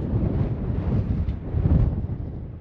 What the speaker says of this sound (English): If it wasn't such bad, horrible wind weather today